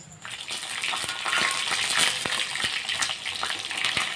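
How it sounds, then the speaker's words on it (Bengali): Pakoras deep-frying in hot oil in a pan on a high gas flame, a steady close bubbling sizzle with scattered crackles and pops throughout, no voices. "এবার আমি লাল লাল করে এপিট ওপিট ভেজে নেব"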